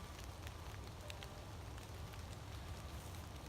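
Steady rain falls on a campsite, a dense, even hiss with scattered drop ticks, continuous and moderately distant, with no talking.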